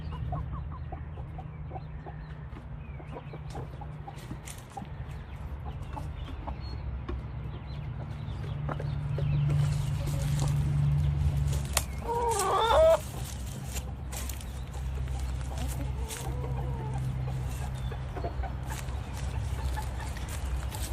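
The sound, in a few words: chickens clucking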